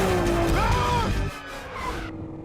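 A Nissan GT-R drifts at high speed with loud tire squeal and engine roar that slide in pitch, then fade and break off, with a voice talking underneath.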